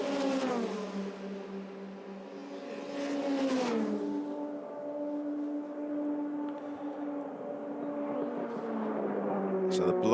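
A Euroformula Open race car blasts along the Kemmel Straight at Spa-Francorchamps during qualifying, its engine note holding a high, steady whine and sliding through pitch shifts as it passes, with a commentator's voice over the top.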